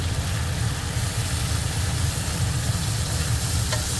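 Large shrimp stir-fry in a pan with oyster sauce, giving a loud, steady, close sizzle with a continuous low rumble and no voices.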